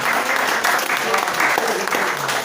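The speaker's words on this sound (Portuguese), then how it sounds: "Graças a Deus e palmas bem fortes para Jesus." Church congregation at a Pentecostal service clapping loudly and continuously, a dense steady wash of applause filling the room with faint voices mixed in.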